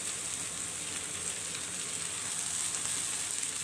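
Onions fry to a light golden colour in a pan, a continuous soft hiss and sizzle that holds steady throughout, close and fairly quiet, with no talk.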